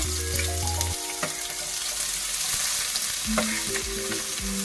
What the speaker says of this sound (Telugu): జీలకర్ర రెండు లావ మొగ్గలు వేసుకుని తరిగి పెట్టుకున్న ఉల్లిపాయ